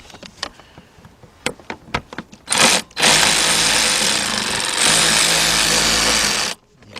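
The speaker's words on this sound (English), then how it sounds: "I'm going to get my big bill ratchet with a 5/16, or you can use an 8mm socket." Under a Chevy S10 pickup, a ratchet with a 5/16 socket works loose an exhaust clamp: a run of sharp, rapid clicks, then a long, loud, continuous whirring burst that stops abruptly.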